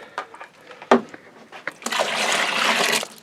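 Golden syrup poured into a home brew mix in a sterilised vessel, a thick liquid glugging and splashing steadily for over a second after some brief knocks and handling sounds.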